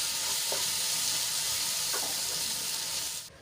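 Chillies and gram flour (besan) in a pan give a steady close sizzle with a couple of soft scrapes from stirring, cutting off abruptly near the end; no talking.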